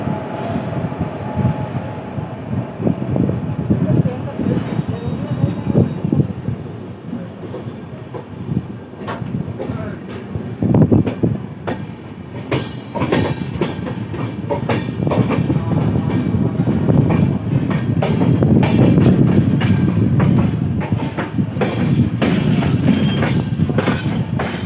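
The Howrah–Bolpur Shantiniketan Express rolls along the rails, a steady rumble and rattle of carriages with rhythmic wheel clicks and occasional clanks, heard from on board throughout.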